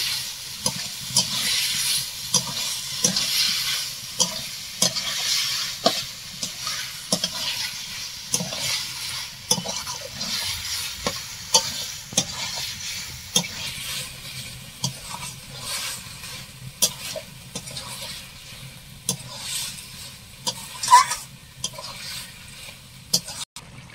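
Chicken pieces frying and being stirred for chicken tadka, a low sizzle under repeated scraping and tapping of a spatula against the pan, irregular strokes throughout with a louder clack near the end, no voices.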